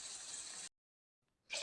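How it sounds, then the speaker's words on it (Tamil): Water poured into a pan of cooking vegetables for Tamil-style vegetable upma, heard as a short splashing run that stops, then a brief second burst after a pause. "தண்ணி கொஞ்சம் ஊற்றிக்குவோம்."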